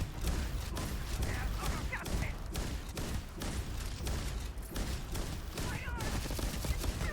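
Rapid bursts of gunfire in Starfield: Shattered Space crack in irregular clusters amid dense combat noise, with a voice briefly audible under the shots.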